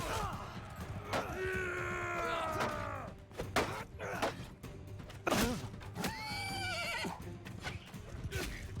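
During a Bannerlord battle, a horse gives two loud, drawn-out whinnies, one early and one later, over the thuds and clatter of combat.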